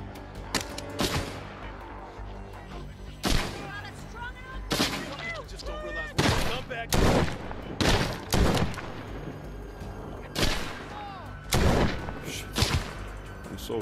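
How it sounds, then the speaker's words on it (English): Video game gunfire: sharp broadband shots crack out in scattered bursts and single reports, some close and loud, with faint game sounds and intermittent talk between them. "I hear shots."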